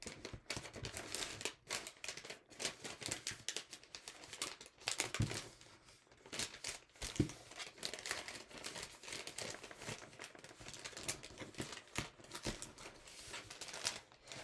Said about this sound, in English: And then basically fold the diamond in half.